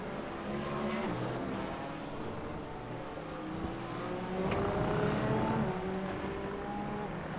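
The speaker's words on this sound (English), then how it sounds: "Quite a gaggle of cars coming out of the corkscrew there." Pack of race cars streams out of the corkscrew in an iRacing NXTGEN Proto GT3 race at Aragon, engines droning and shifting pitch in a steady, loud roar with layered tones from several cars at once.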